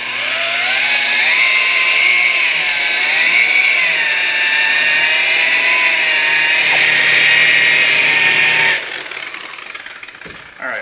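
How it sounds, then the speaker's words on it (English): A polisher buffing the quarter panel of an old abandoned Mopar car, a loud steady motor whine that rises and falls slightly under load for about nine seconds, then cuts off, followed by handling noises. "buff out a quarter panel on an old car"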